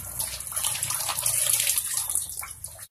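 Rice-washing water poured onto an orchid, a steady splashing and trickling stream running for a few seconds before stopping abruptly.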